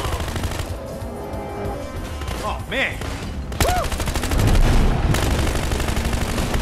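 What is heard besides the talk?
gunfire in Battlefield Hardline video game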